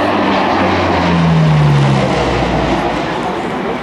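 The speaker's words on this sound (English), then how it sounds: "The sound of this Allison turboprop engine." A loud, steady roar of an HC-130H Hercules's Allison turboprop engine at an airshow, a low droning hum that briefly rises in pitch, heard without any voices.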